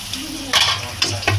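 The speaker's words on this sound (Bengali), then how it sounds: "পেস্টটা সুন্দর করে ভাজা ভাজা করতে" Spice paste for chicken bhuna sizzles and crackles in hot oil, with a few sharp stirring scrapes breaking through the steady frying hiss.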